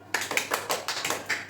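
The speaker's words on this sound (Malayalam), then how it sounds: "ഒന്ന് ക്ലാപ്പ് ചെയ്തോ." Quick, even hand claps, about eight in a row, close and fairly soft, from a family celebrating a round winner during a drawing game at home.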